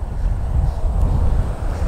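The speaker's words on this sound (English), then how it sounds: "It's so windy." Strong wind blows across an open golf course and buffets the microphone with low, rumbling gusts, a continuous close roar without pauses.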